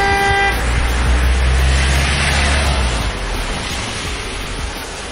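A car approaching in a Polish children's audio drama gives a short horn blast, followed by a broad, rushing engine rumble that swells and slowly fades, with no voices over it.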